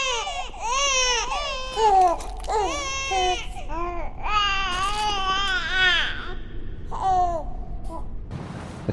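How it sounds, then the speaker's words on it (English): Several babies cry in Bloodborne's eerie game world, wailing and sobbing in overlapping bursts with whimpers between them, reverberant and somewhat distant, with no speech. "Crying babies in the distance."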